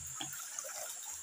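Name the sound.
water dripping and flowing down from the mountain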